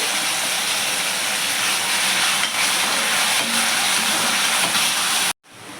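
Pureed ripe tomatoes hit a pan of onions for a mushroom and baby potato pepper gravy and sauté with a loud, continuous hiss that cuts off abruptly near the end.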